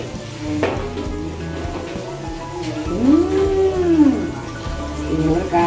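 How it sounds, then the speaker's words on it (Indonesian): Crispy battered mushrooms sizzle in hot oil while a utensil stirs them, giving a steady frying hiss with scraping and clinking against the pan, and someone speaks over it. "Oke, kita aduk biar matangnya merata"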